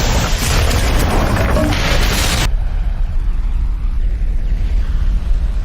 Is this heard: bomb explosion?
yes